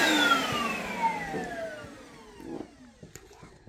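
A vacuum cleaner whines loudly and then winds down, its pitch sliding lower as the motor slows, ending with a few faint knocks.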